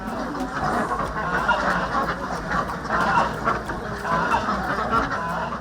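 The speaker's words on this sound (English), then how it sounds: "At the heart of this agriculture wonderland are ducks themselves." Ducks on a Ugandan duck-rearing farm quack in a dense, continuous flock chorus, steady and fairly close throughout.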